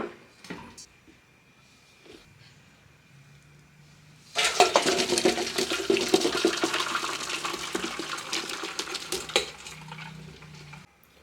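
Cooking water from boiled sabbakki (sago pearls) is poured off from a pot in a home kitchen: after a quiet start, a sudden loud rush of pouring liquid runs steadily for about six seconds, then cuts off.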